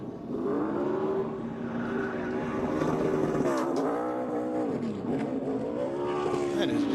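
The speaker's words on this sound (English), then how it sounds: "Just doing some donuts in Daytona." Race car spinning donuts at Daytona after winning the 2024 United Rentals 300, a loud sustained engine roar with rising and falling revs over several seconds, crowd and commentary voices mixed underneath.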